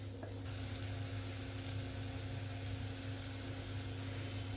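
Masala with green chillies heats in a pan for palak paneer, giving a steady, even sizzle that holds for several seconds with no talking.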